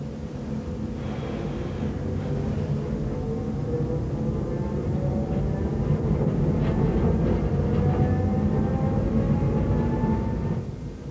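A train rolls steadily through the Hasli valley toward Meiringen on the Brünig line, a continuous close rumble with rail squeal and faint clacking building midway and easing at the end.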